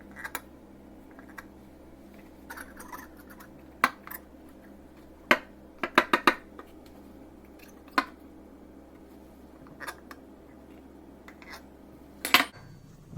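A knife drawn across the top edge of a pie pan holding blueberry pie dough, giving a series of sharp, close metallic scrapes and clicks, some in quick bursts, over a quiet kitchen hum.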